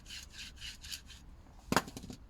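A worn front suspension top mount rubber bushing on a Peugeot 308 1.6 HDi creaks and rubs in several short, scraping strokes, followed by one sharper knock as the part shifts, quiet and close.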